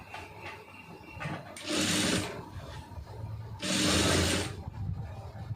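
A sewing machine stitches a puff sleeve on a lined blouse in two short, bright bursts a couple of seconds apart, over a low background hum.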